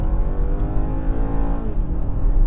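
The engine of a 2022 BMW X3 sDrive 30i restarts after an auto stop-start shutoff, a loud, close idle hum with rising and falling harmonic tones as it settles, with no talking over it.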